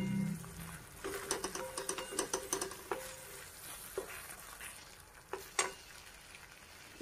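Goat brain fry being stirred in a pan, with a quiet sizzle under a run of light spatula taps and scrapes that thin out toward the end, and no voices.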